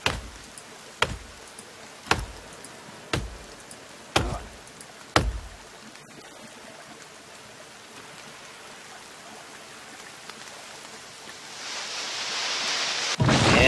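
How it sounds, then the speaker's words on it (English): Rain falls in the survival video game The Forest. Six evenly spaced sharp chopping hits come first, then a steady hiss of rain swells and grows louder toward the end, with no voices. "And it's raining."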